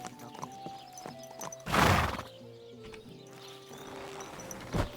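A horse in the video game Kingdom Come Deliverance 2 gives a loud snort or whinny, with hoof clip-clops and soft shuffling around it, fairly close, then another short snort near the end.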